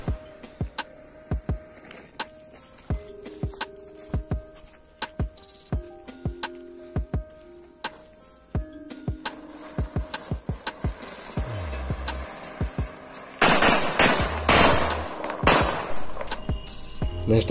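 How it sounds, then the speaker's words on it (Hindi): An anar fountain firecracker combined with a bijli bomb sets off a run of sharp, irregular pops over chirping crickets, then ends in a louder, sustained rushing burst of sparks. "सो नेक्स्ट आता है हमारे अनार प्लस बिजली बम"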